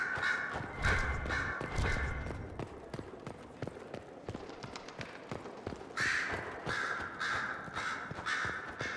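Crows caw repeatedly in bursts at Skyhold in Dragon Age: Inquisition, harsh calls clustered early and again near the end, over soft thuds and taps and with no talking.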